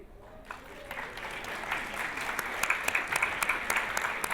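Applause from an awards ceremony audience swells after a quiet start into steady, dense clapping, with a few sharper claps standing out near the end.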